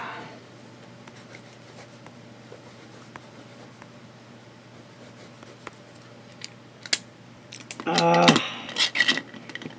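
A ballpoint pen moves across paper in a quiet, faint scratch, followed by a louder burst of rapid scribbling strokes near the end, heard close up in a quiet room.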